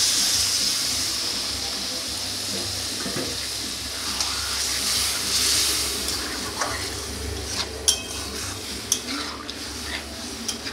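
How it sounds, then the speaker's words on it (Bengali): Water poured into a hot cooking pan (kadai) while preparing a vegetarian dish, giving a steady broadband hiss and sizzle throughout with some light clinks and stirring noises near the end. "এবার দিয়ে দেবো জল"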